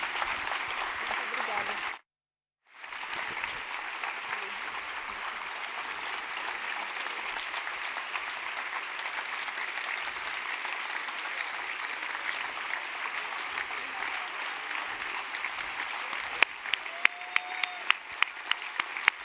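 A crowd at a conference closing ceremony applauds loudly and continuously, with a dense, sustained roar of clapping broken only by a short silent gap near the start, and a few sharper claps standing out toward the end.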